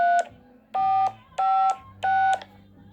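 Four short DTMF keypad tones beep from a Baofeng UV-5R handheld radio, each a clean two-pitch burst separated by brief gaps, clear and close with no voices.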